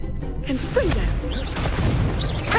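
A Confringo blasting spell bursts in Hogwarts Legacy with a loud boom, under busy combat noise and a voice talking over the action.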